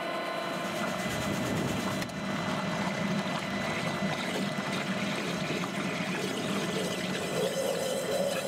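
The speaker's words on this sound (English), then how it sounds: "I'm now flushing the turbo filler with clean water from the autofill." Clean water from the autofill rushes steadily through the turbo filler of a HARDI field sprayer, a constant close gushing and churning hiss with a faint pump hum beneath it.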